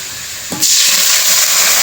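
Masoor dal and bottle-gourd greens poured into hot oil tempered with cumin, onion, chopped young garlic and a bay leaf; after a brief low splash, a loud, steady steaming hiss bursts up and holds.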